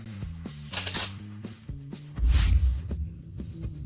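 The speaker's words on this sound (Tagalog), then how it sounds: "Mga kubyertos na ginto. Ang kinang nito, ang pakiramdam nito, at ang tunog nito." Gold cutlery clinking, several bright metallic clinks scattered over a steady low rhythmic musical pulse, with a heavier thud partway through and no talking.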